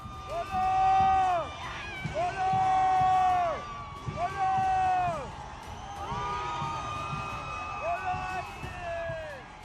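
Demonstrators outside the Iranian embassy cheer as a flag is raised: a dense crowd of voices with loud, rising and falling chanted calls that repeat in waves, close and continuous.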